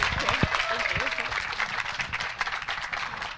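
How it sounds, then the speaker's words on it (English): An audience at a university event gives a round of applause, steady dense clapping lasting the whole moment with a voice speaking over it. "one more round of applause"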